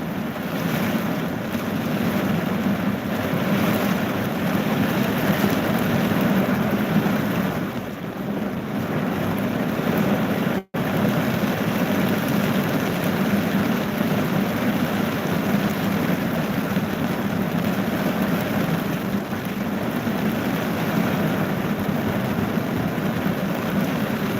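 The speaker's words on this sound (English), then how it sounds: "it's nice and rainy out here" A rainstorm outdoors gives a constant broad wash of rain hiss and blustery wind with low rumble, loud and unbroken apart from one brief dropout midway, and no voices.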